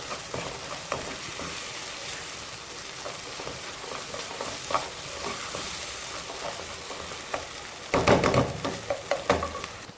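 Brain masala cooks in ghee in a pan, a steady sizzle broken by scraping stirs, with a louder burst of clattering spoon strokes near the end.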